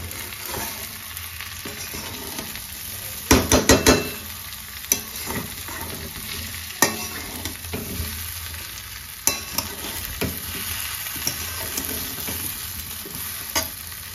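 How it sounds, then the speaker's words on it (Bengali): Vegetables frying lightly in oil before going into khichuri water, a steady close sizzle broken by a few sharp stirring clatters of a spoon against the pan, no talking. "এই অবস্থাতেই সামান্য ভেজে নেব, নিয়ে ডিরেক্ট অ্যাড করব খিচুড়ির জলের মধ্যে"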